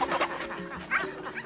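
A dog whimpers and yips in short, rising cries, close and fairly loud over a steady background wash.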